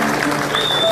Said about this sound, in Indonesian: tepuk tangan dulu dong, semangat ya.